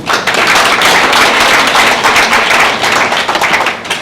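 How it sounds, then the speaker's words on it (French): Audience clapping at a book dedication ceremony for the book La Pomme d'Adam, a dense, steady wash of many hands, loud and continuous for the whole stretch with no voice above it. "Makhtar Sylla, applaudissez-le."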